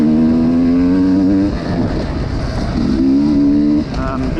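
A 2021 Sherco 300 SE two-stroke dirt bike engine catches and runs, a loud, steady buzzing idle with a slight dip in pitch midway, under a voice talking over it.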